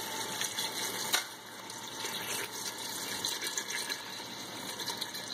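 Water runs steadily into a large cooking pot, about 1.5 gallons filling it toward the top, a continuous close rushing pour with no talk.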